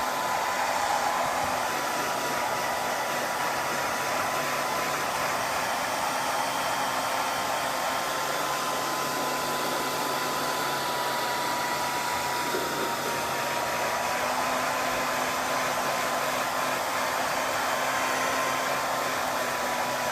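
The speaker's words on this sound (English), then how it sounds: "I'm going to reapply some heat now on the bottom left side." Hot-air heat gun blowing steadily on the cracked screen of an iPad Air 2 during a screen repair, a continuous loud whooshing hiss with a faint motor hum, alone for the whole span with no talk.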